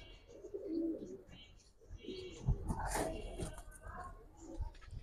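Giribaz silver pigeons cooing softly in a loft, low repeated coos at close range with faint chirps, quiet overall.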